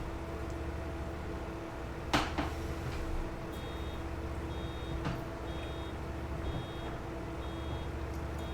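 Reversing beeps from a vehicle in Farming Simulator 22, a faint, regularly repeating high beep running through the clip over a steady low engine drone, with a couple of brief louder knocks.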